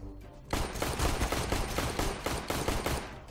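Sustained automatic gunfire in Counter-Strike: Global Offensive, a dense loud rapid burst of shots that starts abruptly and keeps going to the end, fired close by.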